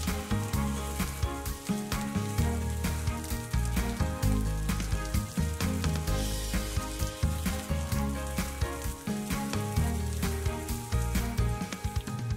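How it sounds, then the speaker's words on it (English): Salmon and courgettes fry together in a hot pan, giving a steady dense sizzle with crackling pops that runs continuously and loudly up close. "I'm just adding the courgettes on the side as well, so the both will be cooked at the same time."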